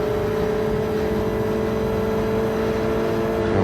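A race car in Gran Turismo 7 holds a loud, steady engine drone while overtaking, a constant buzzing whine with no talk over it.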